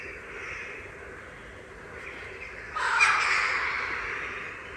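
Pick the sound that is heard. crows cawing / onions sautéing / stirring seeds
crows cawing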